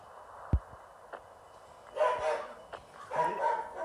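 In the Minecraft-style mobile survival game Cube Survival, a dog barks in two short bursts after a single soft thump, moderately loud against a quiet background.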